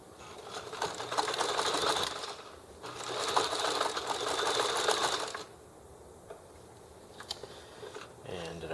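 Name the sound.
sewing machine stitching a waistband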